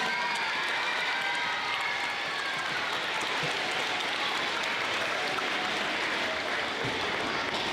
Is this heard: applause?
yes